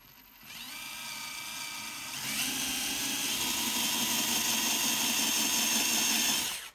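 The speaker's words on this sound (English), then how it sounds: "we're going to drill holes in random spots" A power drill whirs continuously at close range, its motor pitch rising as it bores holes into miniature terrain pine trees, running for several seconds before stopping.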